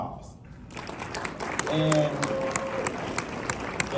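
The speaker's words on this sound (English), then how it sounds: "So give it a round of applause for Miles." A gala crowd at the UCLA Black Alumni Association scholarship dinner claps for Miles, a steady round of applause rising and holding, with talking over the top.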